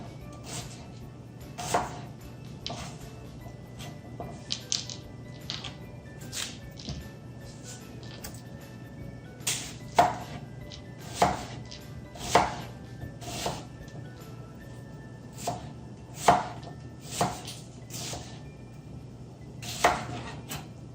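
Knife chopping a whole onion on a cutting board, with a steady run of crisp, fairly close chops in irregular bursts over a low background hum; no voices.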